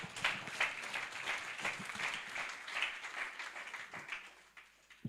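A church congregation claps together in a sustained round of applause, steady rapid clapping that fades slightly toward the end.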